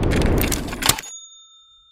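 A bright notification bell dings once at the end of a short busy sound-effect flourish, its clear tone ringing out and fading alone into silence.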